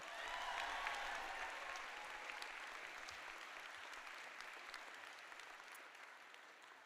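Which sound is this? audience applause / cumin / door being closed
audience applause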